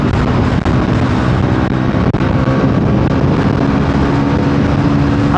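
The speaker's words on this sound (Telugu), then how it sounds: "ఓ థ్రాటిల్ రెస్పాన్స్ వేరే లెవెల్. అసలు అరుపులు అర్పిస్తుందండి పల్సర్ NS 400." A Bajaj Pulsar NS400Z motorcycle engine roaring under throttle at speed, a steady, loud, dense engine drone that holds constant throughout, mixed with wind rush and no voices.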